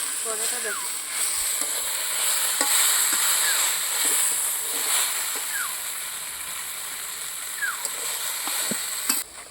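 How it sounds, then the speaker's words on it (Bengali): Spice paste frying in oil in a pan for a dried-fish curry, steady sizzle with scraping stirs of a spoon recurring every couple of seconds; a person talks over it. "তো এখন 3টা মশলা দিয়ে দেওয়ার পর ভালোভাবে কিন্তু মিক্সড করে নেব।"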